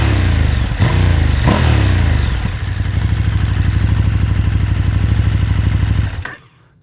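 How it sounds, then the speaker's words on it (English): A 2019 KTM Super Duke 1290 GT motorcycle, close up, gets a couple of sharp throttle blips over its throaty idling exhaust before the engine is cut and falls silent. "Let's give her a rev."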